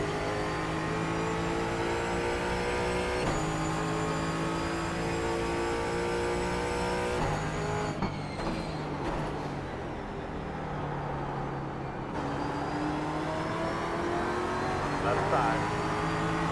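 A race car engine in the iRacing sim, a loud sustained whine that shifts pitch as it accelerates and drops through gears, with other cars nearby and a voice talking over it.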